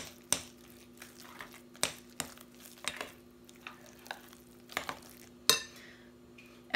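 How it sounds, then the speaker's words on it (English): Two eggs being stirred into two cups of leftover mashed potatoes for potato cakes: a spoon scrapes and taps against the bowl in a series of sharp, irregular knocks over a quiet background, with no talking. "with my 2 cups of mashed potatoes, I'm going to add 2 eggs. Then I'm just going to stir to combine"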